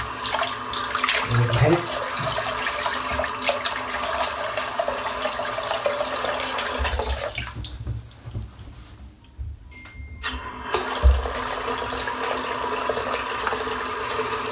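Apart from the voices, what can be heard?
water running into a bowl for shaving lather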